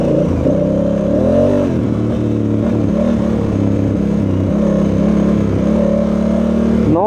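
A Honda Africa Twin motorcycle engine accelerating and blipping on rough ground, a loud, close, steady throb with a quick rev swell early and a rise at the very end.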